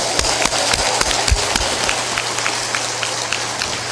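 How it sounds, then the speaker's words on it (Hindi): Large crowd at a religious spiritual gathering applauding vigorously, a loud, dense roar of clapping with sharp individual hand strikes standing out, continuing steadily throughout. "ताली बजा दो जोरदार।"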